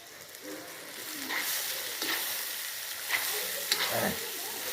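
Osh ingredients frying in a pot, a steady close sizzle with occasional stirring scrapes and faint speech in the background.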